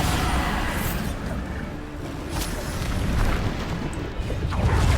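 In the Hogwarts Legacy video game, a Bombarda spell explodes as a dense, rumbling boom that swells and rolls on amid continuous combat noise, loud and close throughout.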